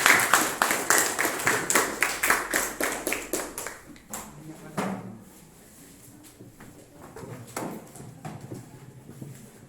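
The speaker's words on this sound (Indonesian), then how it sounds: "mari kita kasih aplaus untuk kelompok Ternate dan kelompok Tidore" Steady rhythmic clapping from a classroom of students applauding the Ternate and Tidore student groups, loud and even for about four seconds, then fading into scattered quieter knocks and room noise.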